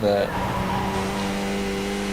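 Onboard a Skip Barber race car in a racing video game, the engine holds a steady, buzzing tone with a clear harmonic whine while commentators talk over it.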